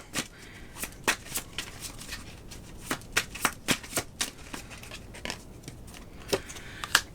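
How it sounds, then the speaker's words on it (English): Crisp riffling snaps of tarot cards being shuffled, arriving in irregular bursts of sharp clicks and flutters, close and fairly quiet, with no talking. "I'm just shuffling cards until stuff starts flying"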